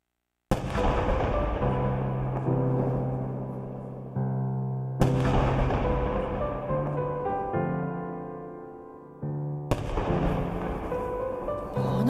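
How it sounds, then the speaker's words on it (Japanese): Booming video game fireworks burst in three big waves, each followed by a long crackling, rumbling decay, loud and continuous. "花火だ。"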